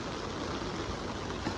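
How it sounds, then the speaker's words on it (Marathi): Monsoon rain and running water on a Mumbai street, a steady dense rushing hiss like a stream that holds even throughout, with no voices. "पाऊस लागला ना शेवटी 1 महिन्यानंतर."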